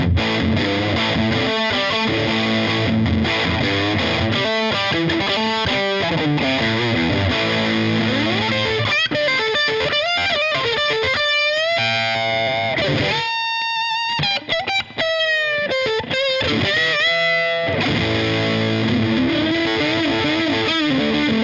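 An electric guitar runs through a tube amp and a Chevtone Honeyburst overdrive pedal cranked to full gain, playing loud, thick, saturated riffs and sustained chords with brief pauses for the whole passage.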